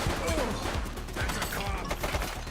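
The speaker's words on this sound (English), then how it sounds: "Shots fired!" Rapid gunfire crackles through a police shootout in the video game The Precinct, a dense volley of sharp shots at moderate level with voices in the mix.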